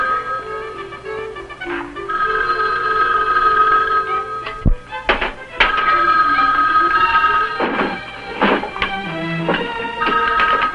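An old 1960 Bell System telephone bell rings on a farm, with repeated bright metallic rings over a sustained background musical tone, loud and close.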